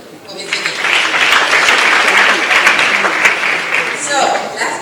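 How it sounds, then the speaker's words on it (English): An audience claps at a live event, a dense burst of applause swelling quickly and holding for several seconds before tapering near the end, with a voice briefly over it. "Again, one more applause for Ms."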